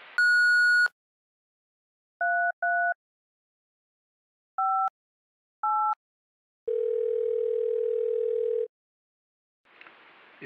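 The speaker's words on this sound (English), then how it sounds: "To leave a message, do so after the beep" Telephone tones from an answering machine in the video game Thimbleweed Park: a long tone, several paired dial-style beeps spaced apart, then a steady two-second beep, all clean and alone, with a short burst of noise at the end.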